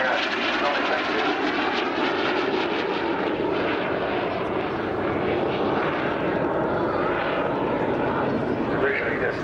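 An aircraft engine roars steadily and loudly at an outdoor air show, a continuous broadband drone that holds for the whole stretch with no pauses.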